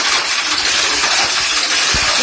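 A mini 4WD car's small electric motor running with fluctuating RPM, giving a loud, dense, high-pitched whine and hiss that wavers continuously throughout.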